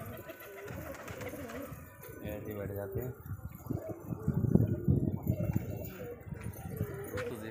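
Pigeons perched on a wall coo softly in short rounded phrases, close by, while someone talks over them and a few light scuffs sound in the background.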